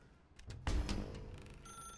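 A telephone rings in The Stanley Parable video game, with clattering bursts before a sustained electronic ringing tone, fairly quiet.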